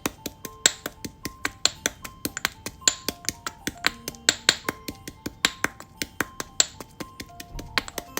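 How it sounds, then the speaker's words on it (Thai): Sharp, hard knocks repeat at a brisk, steady rhythm, close and clear, as herbs are pounded in a mortar, with no talking. "แล้วก็ใส่ลงไปในครก แล้วก็ตำเลย เสียงก็จะดังนิดนึงนะ"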